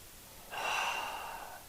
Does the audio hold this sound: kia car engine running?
no